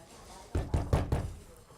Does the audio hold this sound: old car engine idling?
no